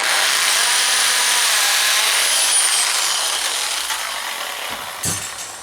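A loud, steady grinding whir of a drill bit boring 2 inches into a wooden stump, continuous and close, with a brief clunk near the end as it slows.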